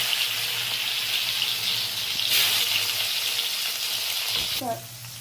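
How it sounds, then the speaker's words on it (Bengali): Bitter gourd pieces frying in hot oil for a vegetable sukto, giving a steady, close hiss and sizzle throughout, with a brief clatter near the end as the sizzling drops slightly. "উচ্ছেগুলো ভেজে নেব।"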